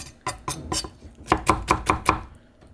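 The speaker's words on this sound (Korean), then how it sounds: "채를 썰 거예요" A knife chops zucchini into thin strips on a cutting board, a few spaced cuts followed by a quicker run of crisp, even strokes, close and clear.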